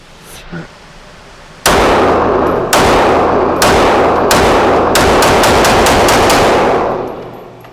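A handgun fires at a steel target at a range, with a quick series of loud, close shots, each followed by a ringing clang, the last few rapid, then the ringing fades.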